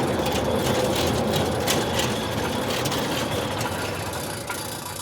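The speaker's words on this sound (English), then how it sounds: "you're going to get a smooth operation of the gate motor system" A Centurion D6 Smart gate motor drives a sliding gate, giving a steady close mechanical whir and rumble that keeps going throughout and eases slightly toward the end.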